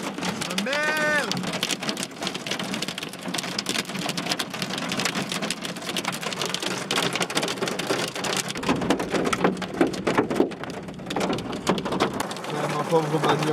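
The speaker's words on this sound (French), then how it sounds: "Plein sous l'orage." Heavy rain pounds steadily on a surface, a dense continuous roar with faint rumbles and brief voice fragments underneath.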